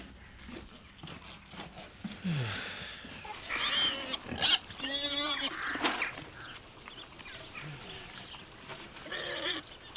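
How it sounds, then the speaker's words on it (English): Pigs grunt, oink and squeal in irregular bursts at moderate distance, with short pauses between calls and no voices over them. "I'm going to miss them pigs."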